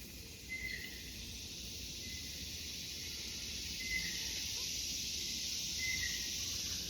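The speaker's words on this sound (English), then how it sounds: "I don't know if y'all be able to hear over the cicadas" Steady, dense cicada drone fills an outdoor woodland setting, a continuous high buzz that holds level throughout, with a few faint higher chirps over it and no talking.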